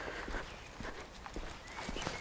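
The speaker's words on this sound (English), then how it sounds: "there's a bloody horse coming" A horse approaches along a countryside footpath in England, its hooves clip-clopping in a steady walking rhythm, faint and partly buried under wind and outdoor noise.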